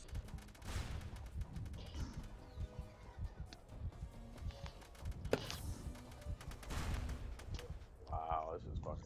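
Gunfire and a grenade blast fill a SOCOM 2 online match, with scattered shots and thuds throughout, one sharp explosive crack near the middle, and a voice talking over the action.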